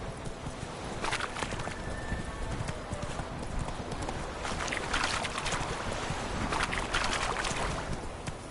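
Roach the horse gallops in The Witcher 3, hooves clip-clopping in a steady, fast rhythm close by, with wind and outdoor ambience throughout and no voices.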